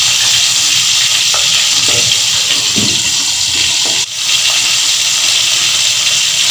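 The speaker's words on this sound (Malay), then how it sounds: "Biar dia goreng sebentar ya, sebelum masak secara tutup." Fish frying in a pan before the lid goes on, a loud, steady hiss and sizzle of hot oil running throughout with a brief dip near the end, no talking.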